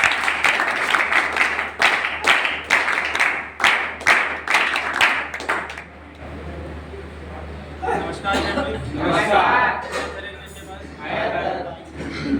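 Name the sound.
audience applauding to welcome a speaker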